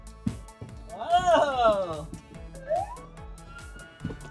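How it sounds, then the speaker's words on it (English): A fire truck siren wails in rising and falling sweeps, loud and close, over rhythmic background music and a voice talking. "Do you hear the siren?"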